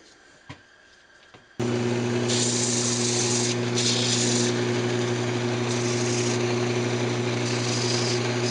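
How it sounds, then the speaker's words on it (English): After a brief quiet moment, a lathe starts up with a steady motor hum, joined by a continuous, loud rasp of a turned wooden Christmas ornament being sanded. "I'm just going to go ahead and finish sanding it."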